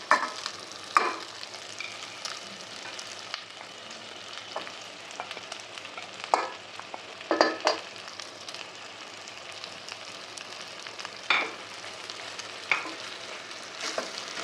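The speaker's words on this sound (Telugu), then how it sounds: "ఈ టైం ఈ రైస్ని వేయాలండి" Rice tipped into a pan of soft boiled potatoes for aloo rice and stirred, giving a steady low sizzle with scraping spoon strokes and a few sharper clinks spread through the stretch, with no voices.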